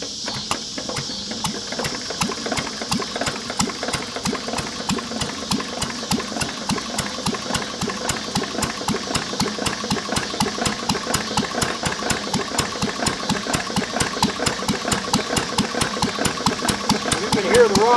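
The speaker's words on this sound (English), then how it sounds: "You can hear the rod bearing in it" An English Lister throttle-fed stationary engine cranks and settles into a steady, rapid mechanical chugging with a faint rod-bearing knock, loud and close, growing slightly stronger toward the end.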